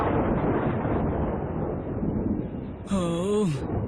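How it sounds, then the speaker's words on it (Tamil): Storm wind in the animated Barbie fashion fairytale movie roars loudly and continuously with a deep, rumbling wash, before a voice speaks briefly at the end. "இப்பன்னு பார்த்துதான் இப்படி புயல் அடிக்கணுமா?"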